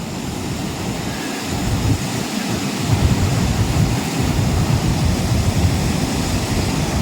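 Waterfall water at the Mahendragiri hills pours in a steady, loud broadband rush that fills the whole stretch, close by and unbroken, with a faint low rumble underneath and no voices.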